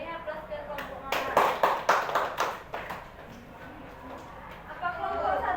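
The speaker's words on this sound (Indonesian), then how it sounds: "Beri aplaus ke kelompok mana?" Classroom applause for a group presentation: a short burst of clapping hands swells and fades over a few seconds, with murmuring voices and room noise around it.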